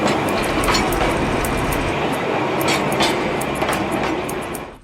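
The Darjeeling Himalayan Railway train rolls along steadily with a loud, continuous rumble and rhythmic wheel clatter, close by and without speech, easing off at the very end.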